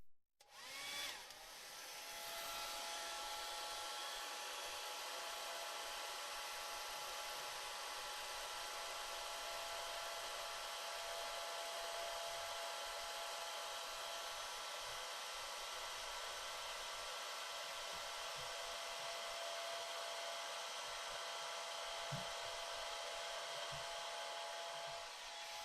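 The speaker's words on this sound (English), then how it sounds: "So I'm going to give it a quick dry." A hair dryer blows on a wet watercolor painting of a wire fox terrier, starting up at once and then holding a loud, steady whirring roar for the whole stretch with no voices.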